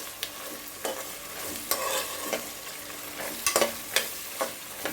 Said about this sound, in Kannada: ಇದೆಲ್ಲ ಸ್ವಲ್ಪ ಆಯಿಲಲ್ಲಿ ಫ್ರೈ ಆಗಬೇಕು ಈರುಳ್ಳಿ ಜೊತೆ ಜೊತೆಗೆ ಇದು ಫ್ರೈ ಆದರೆ ಚೆನ್ನಾಗಿರುತ್ತೆ